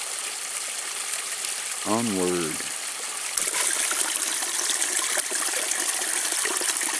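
Broadband rushing of a stream while drinking-water containers are filled during a trapping run, steady throughout and growing louder after a few seconds, with a brief spoken word partway through.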